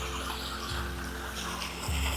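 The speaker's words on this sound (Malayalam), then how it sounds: "ഈ വെള്ളമാണ് ആ മലയിൽ നിന്ന് വരുന്ന വെള്ളമാണ്" A mountain stream flows and spills down near a cave, making a faint, steady watery rush with a low background rumble and brief deeper surges.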